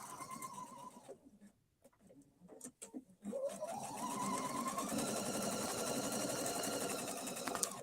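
Sewing machine with an open-toed foot stitching two fabrics placed right sides together along a marked line, a steady motor whir that drops away briefly before resuming as a continuous hum.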